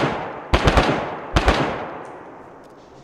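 Gunfire in the survival game DayZ comes in two quick bursts of several sharp shots each, with echoing tails between them and a fading reverb afterward.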